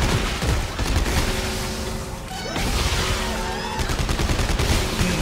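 Sustained heavy gunfire in the video game Dead Space 3 during co-op combat: rapid, loud automatic bursts and blasts fill the whole stretch with hardly a pause.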